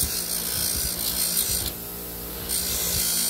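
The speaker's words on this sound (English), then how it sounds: "I'm going to grind all these scratches." Grinding wheel working scratches out of Schwinn Stingray bike parts, a steady close abrasive whir and rasp with a brief softer dip midway before the grinding resumes at full strength.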